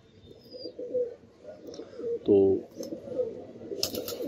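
Soft, low coos from pigeons sick with a cold and sitting puffed up repeat close by, with one louder throaty coo in the middle, under someone talking quietly.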